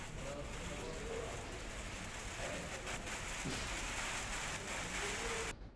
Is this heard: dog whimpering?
no